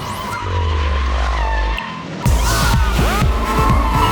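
Powerful cars roar and skid at the Clarkson, Hammond and May live show in a dome venue, with a deep revving drone, a brief pause, then loud tire squeals and screeching engine sweeps close by.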